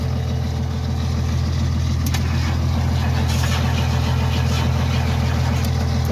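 A 1977 Ford LTD Landau barn find idles with a steady, loud low rumble and even engine drone, close up and continuous, with no talking.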